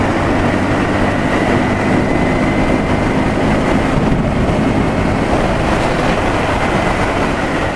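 A light 150cc motorbike riding fast on a road, loud steady wind rush and engine drone throughout, close and continuous with no talking.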